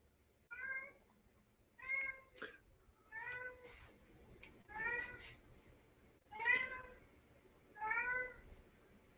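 A house cat meows repeatedly, about six clear separate calls spaced roughly a second apart, fairly close, with faint low background noise and no talking.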